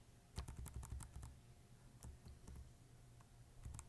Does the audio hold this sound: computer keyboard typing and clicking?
yes